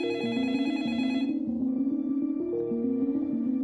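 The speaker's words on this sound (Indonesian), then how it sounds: "tiba-tiba terdengar lagi suara telepon masuk." A telephone rings with an incoming call, a steady electronic ringtone pulsing in a repeating melodic pattern, clear and fairly close, with no voices.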